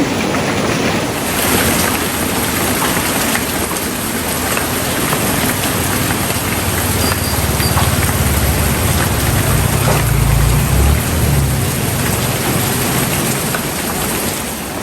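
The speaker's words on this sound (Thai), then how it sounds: "ฝนมันตกยังไม่หยุดสักทีนะคะ" Heavy rain falling steadily outdoors, a loud, dense, unbroken hiss with a low rumble beneath, continuing without pause and no talk.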